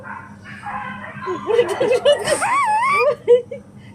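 A dog barks and yips excitedly nearby in a short run of sharp, high calls, mixed with other vocal sounds.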